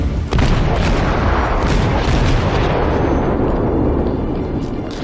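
Warship main guns firing in World of Warships, a loud close booming salvo with a heavy rumbling roar that slowly fades away.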